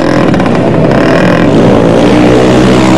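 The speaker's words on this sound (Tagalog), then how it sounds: "Natigilan ang mga kabataang ito sa kanilang drag racing ng motorsiklo sa Muntinlupa" Motorcycle engines roar loud and close during street drag racing in Muntinlupa, Philippines, a dense continuous droning buzz with no breaks or talk.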